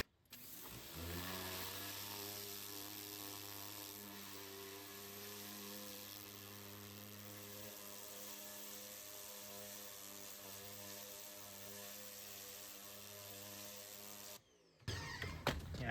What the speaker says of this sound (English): we're gonna hit them with the pressure washer, and that should probably take care of most of the gunk